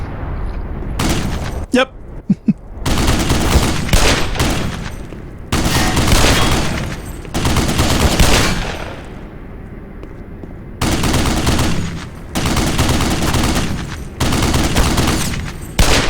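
Heavy artillery and gunfire in the video game Black Mesa: repeated loud bursts of firing and booms come in long sustained waves with short pauses between them, and a voice speaks briefly during the barrage.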